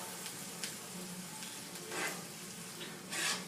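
Food fries in a pan with a constant low sizzle, while a utensil stirs it in occasional scraping bursts that come close and fairly quiet.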